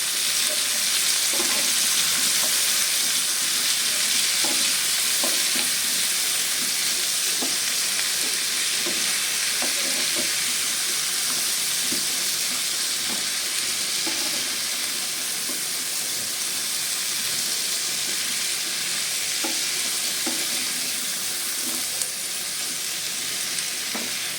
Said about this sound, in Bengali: এবার আমি এখানে গাজর আর কচু যেটা কেটে রেখেছি ওটাকে দিয়ে দেবো তো ওটাকে দিয়ে একটু নাড়াচাড়া করে নেবে